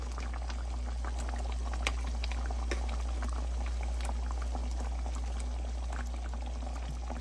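Patties added back into a pan of simmering homemade gravy, a steady bubbling and gentle liquid burble running evenly throughout at close range, with no talking.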